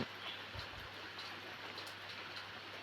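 Steady, soft hiss of morning rain falling in the mountains, constant and even with no voices.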